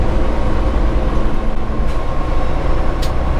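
2018 Peterbilt 389 truck with an 18-speed transmission, its heavy engine droning loud and close with a rough low rumble and rattling cab noise as gears are changed, and a couple of brief clicks near the end.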